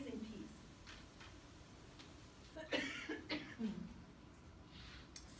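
A person coughs a few times during a lecture, short rough bursts near the microphone in a quiet room, with some brief vocal sounds around them.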